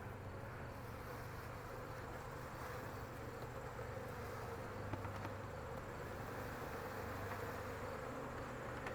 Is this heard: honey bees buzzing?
yes